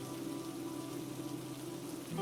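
Soft, steady patter of rain falling on a road, a faint continuous hiss with no talking.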